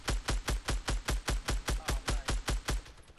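SCAR assault rifle firing in Fortnite, a rapid, evenly spaced string of about fourteen punchy shots in quick succession, fairly loud and alone.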